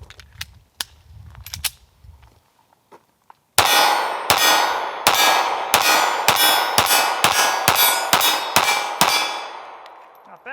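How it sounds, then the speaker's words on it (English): Shots from a Smith & Wesson Bodyguard 380 pistol ring out close and loud, a rapid string of about ten sharp cracks following a few earlier clicks and metallic handling noises. "now we're going to shoot this thing"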